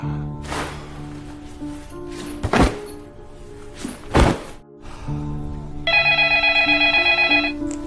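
An old-style telephone bell rings near the end in a rapid, bright trill, after a few heavy thumps and knocks in a quiet room.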